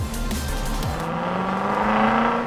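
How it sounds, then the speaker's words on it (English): Looping superbike engine drone from the BattleTech / RogueTech video game, a steady loud mechanical whine with slight pitch shifts and no pause across the whole stretch. "our superbike now has superbike sounds"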